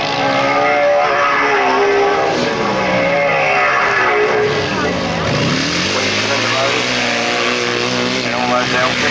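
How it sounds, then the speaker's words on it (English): Grasstrack sidecar outfits racing on a 1991 Weald of Kent circuit, their exhausts rasping loudly as throttles open, one engine note sweeping down and back up as a machine passes close, under continuous commentary. "Hear the difference in the noise of the exhaust as they crack those throttles open"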